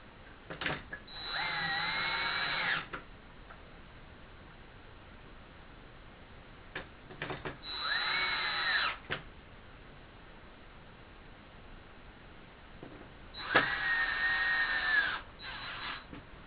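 A power drill drives screws back into a computer in three separate whirring bursts of about two seconds each, each rising and falling in pitch, with quiet pauses and faint clicks between them.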